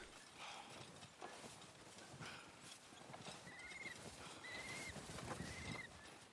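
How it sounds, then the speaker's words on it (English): Horse hooves clip-clop in Red Dead Redemption 2, a called horse approaching over faint ambient birds, with a few whinny-like tones; fairly quiet overall. "I'm gonna call my horse along."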